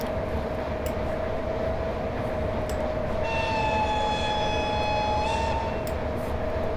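An ÖBB 1189 Krokodil electric locomotive in Train Simulator Classic on the Semmering line sounds its whistle: a loud, steady, multi-tone blast of about two and a half seconds over continuous rolling rumble.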